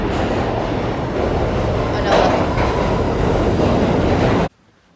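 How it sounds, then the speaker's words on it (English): A New York City subway E train roars into a station with a steady, loud rumble and rattle of wheels, then cuts off abruptly near the end. "we are waiting for the E train to come"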